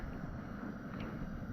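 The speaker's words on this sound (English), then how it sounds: "Wind's got up a bit." Wind blows across a campsite as a steady, low, rumbling roar buffeting the microphone, continuous and even with no other sounds.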